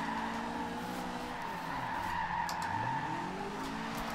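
Tires of a Fiat 131 squeal and skid continuously while it drifts through a corner in Forza Horizon 2, with a steady engine drone beneath and a wavering screech that rises and falls throughout.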